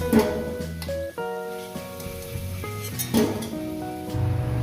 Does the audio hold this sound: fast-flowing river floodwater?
no